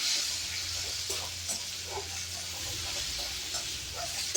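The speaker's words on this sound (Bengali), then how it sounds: "আমটা দিয়ে ভালো করে নাড়াচাড়া করে নিতে হবে, আর গ্যাসটাকে মিডিয়াম টু লো আঁচে রাখতে হবে।" Chopped mango is stirred in a pan on the stove over medium-low gas heat, with soft scraping and rustling strokes repeating across a steady sizzling hiss, close and continuous.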